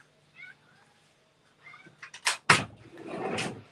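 A pet cat meows several times in a home, a couple of short faint calls followed by louder drawn-out yowls close to the listener, with some household rustling and a door-like knock among them.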